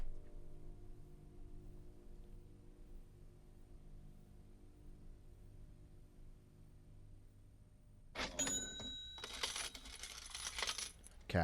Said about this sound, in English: Different sounds of money being accumulated.